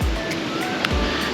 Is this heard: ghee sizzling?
no